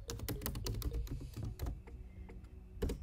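Quick keystrokes on a computer keyboard, a close burst of clicky taps followed by a few scattered presses and a final double tap, with no speech.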